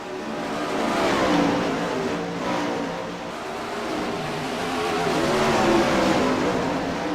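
Sprint car engines race around Eldora Speedway in the iRacing simulation, a dense, continuous roar from a full field of 29 cars that swells and eases as the pack circulates, with no one speaking.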